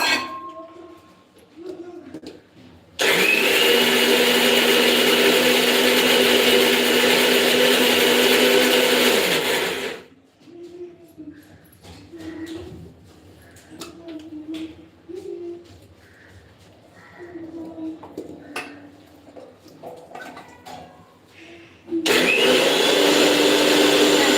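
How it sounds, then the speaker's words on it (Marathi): An electric mixer grinder grinds soaked chana dal with water into batter, roaring loudly in one long burst and then again briefly near the end, with quiet clinks and faint household sounds in the pause between. "ही आपल्याला वाटून घ्यायची मिक्सरच्या भांड्यात"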